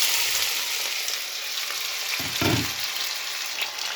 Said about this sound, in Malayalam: ജസ്റ്റ് ആ എണ്ണയിലൊന്ന് വഴറ്റണം